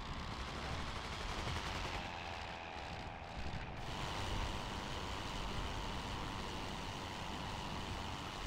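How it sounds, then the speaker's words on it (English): Artillery bombardment in the WWI flight game Rise of Flight: a dull, distant rumble of shell bursts washes under constant wind and engine roar, with a brief cluster of impacts partway through. "Little big artillery bombardment that's landed there."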